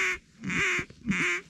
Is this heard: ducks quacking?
yes